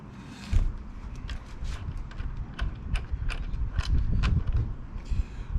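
Motorcycle bar ends and a Barkbuster Storm handguard being unscrewed and removed, with close metallic clicks, ratcheting taps and rattles in an irregular series.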